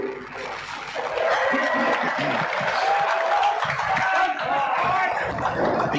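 A crowd at a Kyneton versus Sandhurst football match at Kyneton Showgrounds applauds. Clapping and crowd noise swell after the first second and hold steady and loud, with some voices mixed in.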